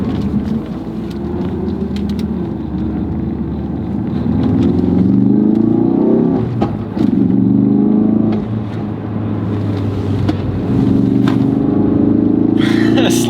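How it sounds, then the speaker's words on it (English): Volkswagen Golf R32 engine revving and pulling hard along a cold mountain road near the Nürburgring, the note rising and falling through the drive with sustained loud engine drone and intermittent voices in the car. "I can hear the Golf R32 of my dad already."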